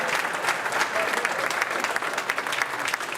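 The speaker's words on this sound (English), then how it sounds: "Give us a round of applause." An audience claps in steady applause for a speaker's wife, with busy overlapping hand claps that stay loud throughout the short stretch.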